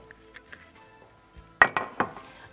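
A cooking pot is handled while fruit goes in for a fruit ashure dessert, with soft scrapes leading to a few sharp metallic clanks and clinks near the end, close and without speech.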